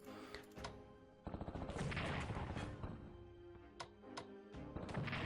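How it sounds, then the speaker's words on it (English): Explosions and rapid gunfire from the WWII strategy game Strategic Command: War in the Pacific, a dense, loud barrage of overlapping bangs and bursts that thickens after the first second and keeps rattling steadily to the end. "Lots of explosions."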